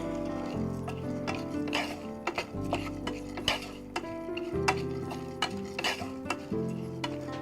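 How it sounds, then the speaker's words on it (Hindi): Watermelon seeds dry-roasting in a pan, stirred with repeated light scrapes and clinks against the metal over steady background music. "तरबूज के बीज, पहले इन्हें भून लेंगे हम।"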